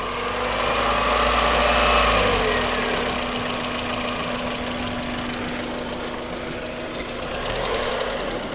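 Mazda MX-5 Miata NA engine running at idle after a cambelt repair, a steady close rumble with a constant hum and faint mechanical ticking, no talking.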